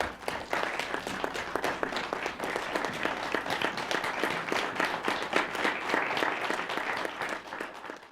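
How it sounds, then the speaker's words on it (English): A city council meeting crowd gives sustained applause for first responders, dense steady clapping from many hands that holds for several seconds before tapering off. "I would just like us to all give them a big round of applause."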